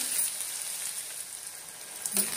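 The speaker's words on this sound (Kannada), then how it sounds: "ಸ್ವಲ್ಪ ಈರುಳ್ಳಿದು ಹಸಿ ವಾಸನೆ ಎಲ್ಲ ಹೋಗೋ ರೀತಿಯಲ್ಲಿ ಫ್ರೈ ಮಾಡಬೇಕು" Onions fry in a pan with a soft, steady sizzle, quiet and close, and a brief scrape or clink near the end.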